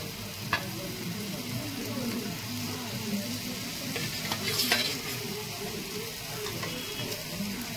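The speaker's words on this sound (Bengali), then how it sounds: "বন্ধুরা, এবার আমি মাছটা দিয়ে দেবো।" Fish going into boiling curry gravy for doi koi, a low bubbling simmer with soft sizzling and a few clinks near the start, steady and close, with no one talking.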